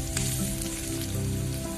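Chopped onions frying over medium flame for Maharashtrian poha, a brief soft, even sizzle with faint crackle, fairly quiet and close, no speech.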